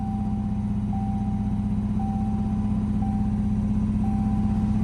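A Saleen car engine running on its own after a rough start, a steady close idle drone with a faint repeating high whine, no talking.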